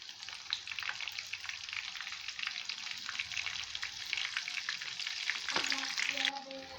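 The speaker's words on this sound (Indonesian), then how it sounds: "udangnya mau Mama goreng udang sampai matang dan juga kecoklatan ya." Shrimp fry in a pan until browned, giving a continuous crackling sizzle close up with scattered pops, a brief clink of a utensil near the end, and no talking.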